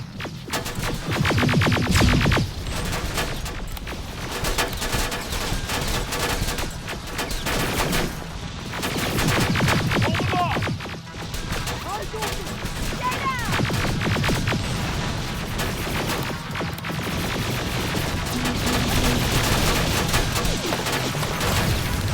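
Sustained gunfire from a firefight in the Terminator Resistance video game, with dense bursts of shots and automatic fire continuing loudly throughout, along with occasional crashes.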